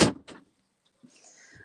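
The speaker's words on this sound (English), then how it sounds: "Shut my door." A door is shut indoors with a firm thud, followed by a lighter knock and then faint rattling as it settles, with no voices.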